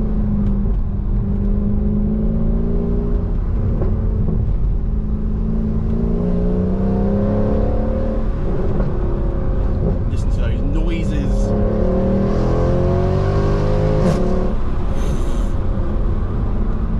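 A Mercedes C63 AMG engine pulls under acceleration on the road, a steady throaty drone that rises and falls in pitch through the gears, with brief higher whines near the end.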